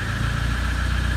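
A car engine in first gear as the revs rise on their own: a steady, low, throbbing engine note with an even pulsing rhythm, close and continuous for the whole short stretch.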